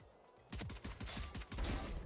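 Gunfire in the shooter game Valorant, a rapid string of sharp shots that begins abruptly after a moment of near quiet and continues as a loud, close burst.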